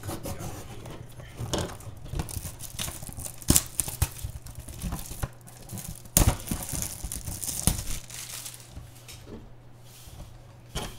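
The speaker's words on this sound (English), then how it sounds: "Let me open the other box" Mystery box of graded trading cards from MJ Holding Gems of the Game being opened by hand: close crinkling and rubbing of packaging with scattered sharp handling knocks and rustles, continuous and uneven throughout.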